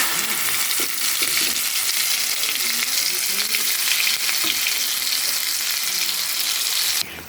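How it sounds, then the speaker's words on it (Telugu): Coconut mango chutney sizzles and fries loudly in hot oil in a pan, with steady crackling and occasional stirring scrapes throughout. "ఆయిల్ వేడైన తర్వాత ఈ పచ్చడి దాంట్లో వేసుకుని కలుపుకుందాం."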